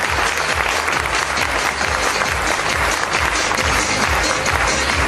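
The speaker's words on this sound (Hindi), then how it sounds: "एक बार इन महागुरुओं के लिए प्लीज जोरदार तालियां" Loud, dense applause from a large audience at a business seminar in India, sustained and even throughout, with faint voices and background sound beneath the clapping.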